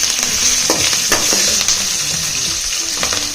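Green chilies and curry leaves crackle and sizzle in hot oil with roasted peanuts for a sour raw mango chitranna, a steady close frying hiss broken by several sharp spatter bursts and light stirring scrapes.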